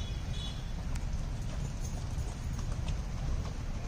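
Punjabi horses at the Akluj horse market make a steady, irregular clip-clop of hooves. The hoofbeats run for several seconds over a dense background of market murmur.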